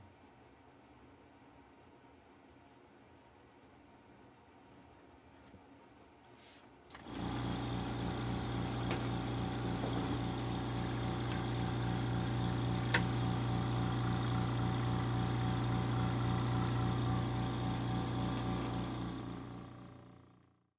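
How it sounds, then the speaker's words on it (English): A vacuum press pump starts abruptly and runs as a steady loud motorized whir with a rhythmic pulsing buzz. It is holding a guitar bridge onto the soundboard under a rubber membrane in a frame, then cuts off near the end. "put it under a vacuum press, which is a frame that has a rubber gasket and rubber membrane that will pull the bridge down onto the soundboard"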